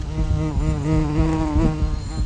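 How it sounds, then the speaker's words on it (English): A hornet attacking a wasp nest hums loudly and close by, a continuous buzzing drone that wavers slightly in pitch throughout. "There's a wasp nest up there that the hornet was attacking. It made quite a loud hum."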